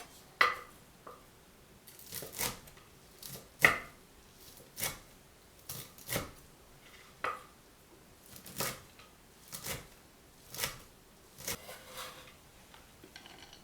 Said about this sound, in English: Cut the fried bean curd into very small cubes.